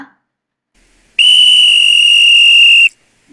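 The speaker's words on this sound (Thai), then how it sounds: "ต่อมาคือเสียงนกหวีดนะคะ" A single shrill police-style whistle blast, sustained and steady for nearly two seconds, loud and close, with silence before and after.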